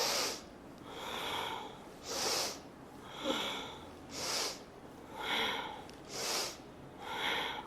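Rhythmic yoga breathing during a Kriya exercise, alternating forceful inhales and exhales through the nose, about six even breath cycles, close and clear without any talking.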